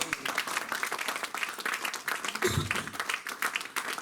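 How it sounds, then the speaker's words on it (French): A church congregation applauds at a French-language sermon on the Holy Spirit, a steady, dense wash of clapping hands from the whole room lasting throughout, with a few louder thumps and crowd murmur mixed in. "Donnons une acclamation au Seigneur"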